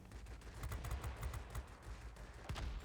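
A Beaufighter's guns fire in World of Warplanes in rapid, continuous bursts of clattering shots, fairly faint and without a break.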